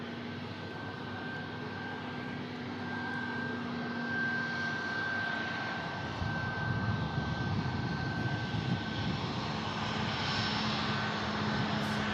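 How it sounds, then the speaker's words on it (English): A TUI passenger jet departs, giving a continuous broad engine roar with a steady whine running through it, growing louder and rougher partway through as it passes, with no talk. "And as that TUI departs, we have a TUI flight just landed"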